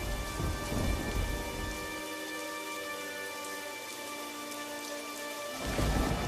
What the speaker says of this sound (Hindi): तभी अचानक से जोर का तूफान आया और बारिश शुरू हो गई